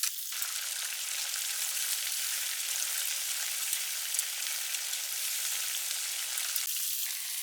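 Seasoned vegetables stir-frying in a pan, a steady close hiss and sizzle, lightly crackling, with faint tapping of chopsticks at the start and end.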